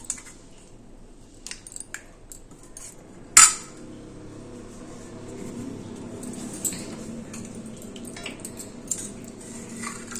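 A spoon scraping and scooping thick pulihora tamarind paste in a metal pot, with intermittent soft clinks and one sharp knock of utensil against the pot, close and fairly quiet.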